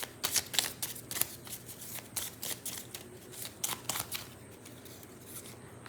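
A deck of tarot cards is shuffled close by, with quick riffling bursts and soft slaps that come in uneven clusters and then trail off into quieter handling.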